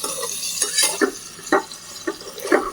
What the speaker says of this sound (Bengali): আর একটু ভাজবো, তারপরে ধনে পাতা দিয়ে দেবো।